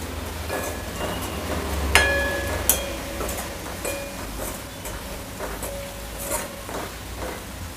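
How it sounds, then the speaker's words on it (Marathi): Turmeric fries in hot oil with browned onions for a smashed potato dish, giving a steady, gentle sizzle with a few light clinks of a utensil against the pan. "त्याच्या आधी थोडीशी आपली हळद आहे ती घालूया तेलामध्ये।"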